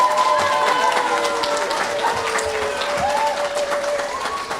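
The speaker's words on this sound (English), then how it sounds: "So please give them a round of applause." An audience at a 5th grade awards ceremony applauds, a dense, steady patter of many hands clapping throughout, with a few voices mixed in.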